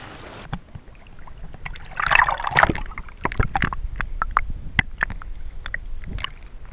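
Someone wades and splashes into the sea off a beachfront on Koh Rong Island, Cambodia, with irregular close splashes and watery slaps over a gentle background wash.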